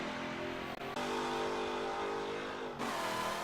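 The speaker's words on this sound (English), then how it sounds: "The final car to go around the Watkins Glen short circuit alternate formation was this, the 1969 Pontiac GTO The Judge" A 1969 Pontiac GTO The Judge muscle car at racing speed on the Watkins Glen short circuit in Forza 7, its engine a loud, steady drone that dips briefly twice, with no one talking.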